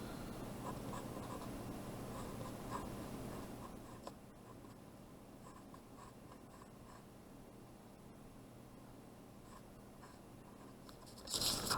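Pen or pencil writing on paper during a math exam review, a steady faint scratching that runs continuously with no talking, ending in a brief louder rustle.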